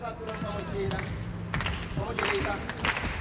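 A karate bout crowd at a Karate Combat event cheers and claps steadily from a distance, a dense continuous roar with scattered claps and shouts, while a commentator talks over it.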